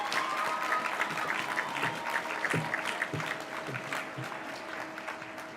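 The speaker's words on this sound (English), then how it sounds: "Can I get one final round of applause for everyone I just listed?" An outdoor crowd at a Coronado high school graduation ceremony in 2021 gives sustained applause, steady clapping with scattered cheers and a faint hum, gradually tapering toward the end.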